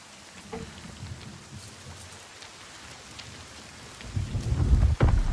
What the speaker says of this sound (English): The constant storm.